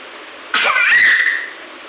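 One short, harsh cough-like burst breaks out midway, close and fairly loud, then trails off into quiet.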